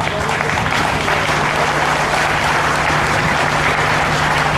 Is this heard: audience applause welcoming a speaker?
yes